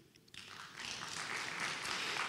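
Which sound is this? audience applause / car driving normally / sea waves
audience applause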